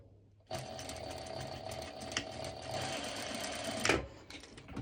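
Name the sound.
sewing machine doing a straight stitch over a bikini strap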